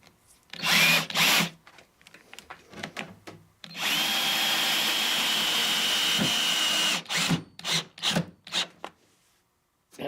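A power drill drives a 3-inch exterior screw into wood while an insulated Layens beehive is being built, with a steady whirring run of about three seconds framed by short bursts of drilling and handling noise nearby.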